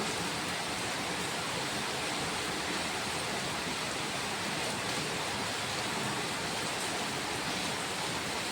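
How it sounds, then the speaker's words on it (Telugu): Heavy rain pours down in a dense, constant roar of broadband hiss, loud and unbroken, with no voices or other sounds. "ఫుల్ పడుతుంది వాన"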